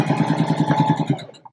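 A home sewing machine stitching a basic seam runs fast under heavy pedal pressure, giving a rapid, even mechanical chatter that stops abruptly after just over a second.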